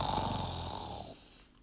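A storyteller's voice imitates the Gruffalo snoring, a rough, drawn-out rasping snore that gradually fades into quiet.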